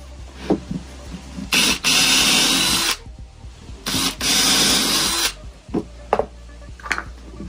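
A power drill bores a hole through a sacrificial piece of timber and into a workbench. It comes in two sustained, loud bursts of roughly a second each, separated by short pauses, with smaller knocks and handling sounds between.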